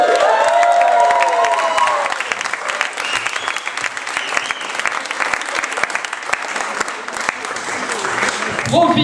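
Audience applause and cheering at a French slam poetry tournament fill the room after scores are read, loud continuous clapping with scattered whoops and voices, fading slightly midway then swelling again.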